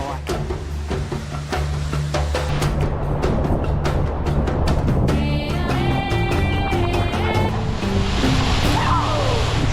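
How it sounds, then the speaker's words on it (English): A rainforest waterfall spilling into the sea in Papua New Guinea, a loud steady rush of falling and churning water with surf, with a voice talking over it and some musical tones layered in. "So this waterfall's just spilling out of the rainforest here. Water's flushing out here into the salt."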